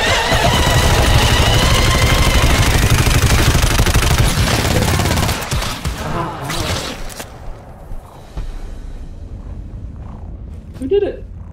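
Dense, loud automatic gunfire from sniper sentry turrets in the co-op shooter game GTFO, a continuous barrage that cuts off abruptly, followed by quieter game sounds and players talking.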